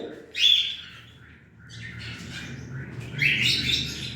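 Several cockatiels chirp and squawk nearby, bright high calls in short bursts with a low background hum, no one speaking.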